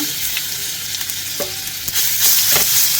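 Asafoetida and coarsely ground rasam spice powder frying in oil on a low flame for blue pea rasam, a loud steady sizzle with a few scraping strokes of stirring, no voices.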